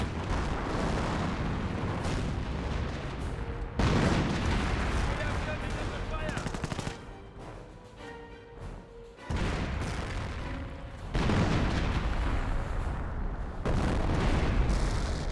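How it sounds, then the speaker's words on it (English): Heavy artillery from a 25-pounder field gun booms repeatedly in a Company of Heroes battle, loud dense blasts with brief quieter gaps between volleys, mixed with other battlefield noise and a voice talking over it. "25 pounder engaging"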